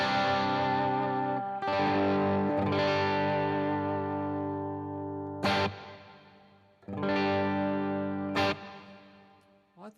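Distorted electric guitar chords played through a Headrush multi-effects unit with a light non-linear room reverb, several sustained strums ringing out and decaying, then fresh sharp attacks, loud and close with no voices.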